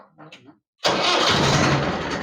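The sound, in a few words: Swaraj 841 XM tractor engine starting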